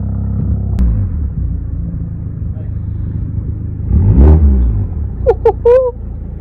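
BMW 128ti engine revving hard, a deep rumbling surge near the middle followed by a few sharp exhaust crackles and burbles near the end, with a steady idle underneath throughout.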